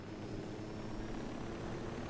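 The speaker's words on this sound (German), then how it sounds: "Oh, hier haben wir auch noch einen Heli." A steady, continuous helicopter rotor drone in the video game Ghost Recon Wildlands holds at even loudness without a break.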